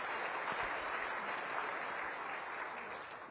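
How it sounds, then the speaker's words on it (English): A conversation event audience applauds steadily and fairly faintly, a dense, even patter of clapping that tapers slightly toward the end. "Part of your cheap applause line."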